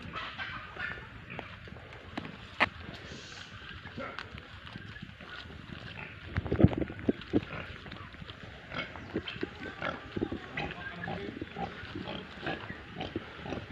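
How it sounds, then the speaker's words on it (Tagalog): A hungry pig, a sow kept tied up on a farm, grunts in scattered low snorts close by, with faint clucking fowl and rustling in the background. "Gutom na ata yung baboy mo"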